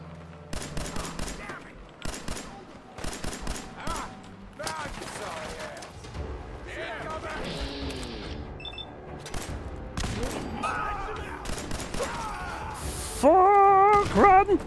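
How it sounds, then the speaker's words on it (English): Rapid bursts of gunfire in the video game Fallout 4, with repeated sharp volleys at the start and scattered shots later, mixed with game effects and a voice talking over the action. "Okay, yeah, we are shooting."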